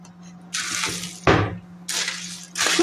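Salty water pours from a container into a tray of sunflower seeds, coming in several loud splashing bursts with short pauses between, close and clear over a faint steady hum.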